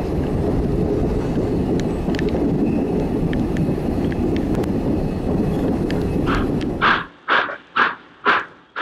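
Southern Pacific 2475, a 4-6-2 Pacific steam locomotive, roars past in a loud rushing run-by with wind noise, then settles into distinct rhythmic exhaust chuffs, about five evenly spaced beats.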